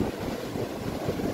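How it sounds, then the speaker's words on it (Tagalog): Strong typhoon winds buffet the microphone at the seashore while big sea waves roll and crash, a continuous rough roar with gusty surges and no talking. "kaya pala sobrang lakas ng hangin doon. Grabe, ang lalaki ng alon."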